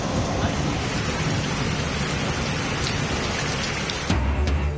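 Heavy rain pours steadily from the first nor'wester storm of the season in Bangladesh, a dense, loud hiss of drops on surfaces with a brief low rumble near the end.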